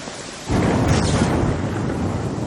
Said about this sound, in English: It's lightning hitting the ground all over the fucking place.